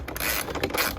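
Wrench turning a tight 10mm license plate screw on a Jeep Gladiator plastic bumper cover, a brief close creaking, ratcheting mechanical sound.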